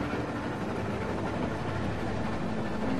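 A train in The Walking Dead video game rumbles steadily up close, a dense continuous roar of engine and rolling wagons with no break.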